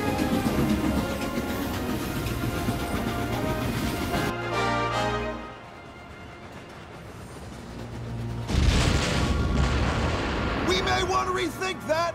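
A rumbling train rolls along with heavy mechanical clatter, then a brief lull before loud rumbling and booms return, fairly close.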